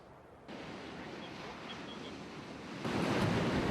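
Storm waves on the sea at Odesa during a violent windstorm, a continuous broad roar of surf and wind that swells louder near the end, with no voices.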